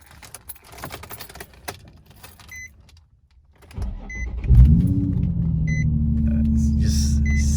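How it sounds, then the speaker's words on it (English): A Nissan 350Z engine cranks and catches after a few seconds of quiet clicks and beeps, then settles into a steady, loud, low idle with a brief revving swell at startup. "All right, start it up."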